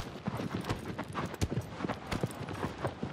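Horse hooves clop steadily in the video game Shadow of the Colossus, a fast, even gallop rhythm that is close and fairly loud, with no talking.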